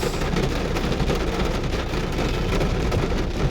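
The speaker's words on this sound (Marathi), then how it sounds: "खूप पाऊस आहे" Dense, steady monsoon rain hisses without pause in the Radhanagari area, a thick wash of noise filling the whole stretch, no voices.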